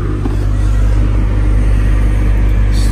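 A 2011 Skoda Superb 2.0 diesel with a CFFB engine and automatic DSG gearbox revs slightly high during DPF regeneration, giving a loud, close, steady drone with no break.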